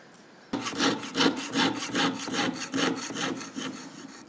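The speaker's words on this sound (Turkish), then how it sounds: "Köşeye geldiğiniz zaman testere kolunu aşağı yukarı yapmaya devam ediyoruz olduğumuz yerde" A jeweler's piercing saw rasps back and forth in a steady rhythm, quick regular strokes close up while cutting and turning a corner, with no talking.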